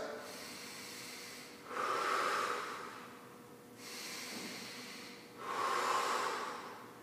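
Two big, deep breaths, each a slow drawn-in rush followed by a long audible exhale, close and fairly quiet with pauses between.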